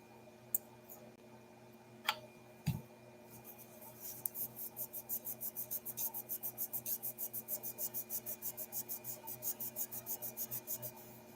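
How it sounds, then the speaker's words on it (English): Cloth rubbing metal on a pocket knife with acetone: a few sharp clicks first, then a steady run of rapid, even back-and-forth wiping strokes, close and fairly quiet. "maybe wiping down the metal, see how much of this comes off with just acetone or whatever."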